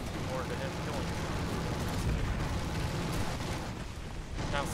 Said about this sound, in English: since all that artillery went off near me, my tank is now covered in a dusty mud.